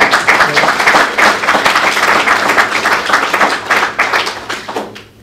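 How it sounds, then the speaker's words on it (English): Audience applause after a talk at a developer conference, close and fairly loud clapping sustained for several seconds, then tapering off at the end. "now you're welcome to applaud"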